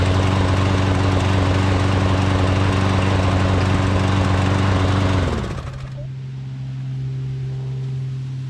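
A Toro XT675 lawnmower engine runs loud and steady near the listener, then drops abruptly to a quieter, lower idle before settling at a softer hum.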